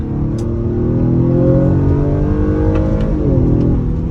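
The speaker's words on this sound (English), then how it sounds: "Nice rev matches." A 2022 Acura RDX A-Spec engine revs up and down in quick blips during rev-matched downshifts on a test drive, loud and close, with steady mechanical drone throughout.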